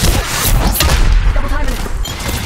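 Continuous rapid gunfire in the Apex Legends Mobile battle royale game, a loud, dense fusillade of shots and booms filling the whole moment with no pause.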